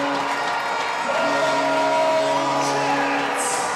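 An ice hockey crowd at Hull Jets against Nottingham Lions roars after a goal, a swelling mass of cheers, shouts and whoops with a sustained horn-like tone underneath.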